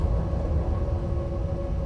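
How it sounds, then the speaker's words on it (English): A German freight train with hopper wagons rolls by in the Train Sim World game, a steady loud low rumble with a faint tonal hum and no break. "on the left we have another freight train"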